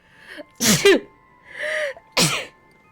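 A person sneezes up close, with a sharp breathy burst, a drawn-out voiced intake, then a second forceful sneeze, loud and alone against a quiet background.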